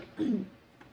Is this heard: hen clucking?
no